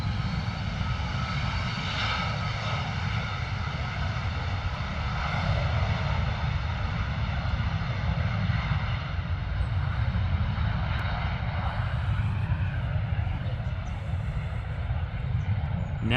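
A Cessna aircraft at London Stansted Airport gives a loud, steady engine roar with a whining tonal edge that holds evenly throughout, close and unbroken.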